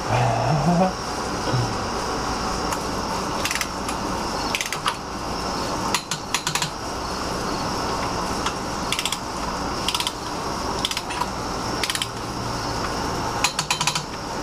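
A socket ratchet clicks in repeated short bursts while supercharger parts are tightened on a Gen 1 engine, with rapid pawl ticks between pauses and a few tool clanks, close and without speech.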